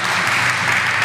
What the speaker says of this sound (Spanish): les den un fuerte aplauso a todo el equipo de Emprende Night